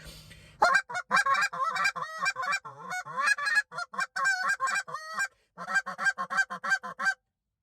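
A short-reed goose call blown in rapid bursts of loud, nasal honks and clucks, close by, with short gaps before a final run.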